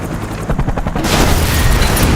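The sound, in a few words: helicopter destroyed by crashing car in the film Die Hard 4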